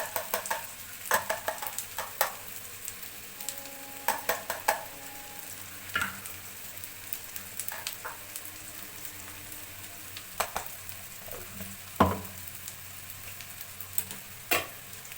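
Peanut powder stirred into sago khichdi in a pan over low heat: a soft, faint sizzle under scattered scraping and tapping of the spoon against the pan, irregular and close.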